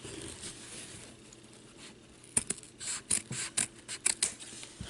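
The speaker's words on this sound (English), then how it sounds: "just so I can place one on top of the other as I'm cutting" Scissors cutting through stacked felt rectangles for a no-sew cupcake ornament: a quiet stretch, then a run of short crisp snips in quick succession, close up and with no talking.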